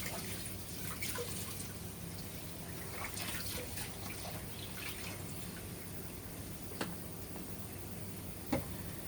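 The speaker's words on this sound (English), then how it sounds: "and then wash it." Washing at a kitchen sink after cooking with a wok, with soft continuous running water and trickling under a constant background hum, plus a couple of faint clinks.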